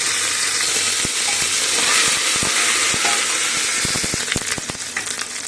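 Ginger-garlic paste hits hot oil with browning onions in a pan, giving a steady, close sizzle with spatula stirring and scraping clicks toward the end, no voices.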